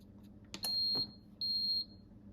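A Crockpot slow cooker starts up with two clear electronic beeps, each lasting under half a second and close by, after a faint button click in an otherwise quiet kitchen.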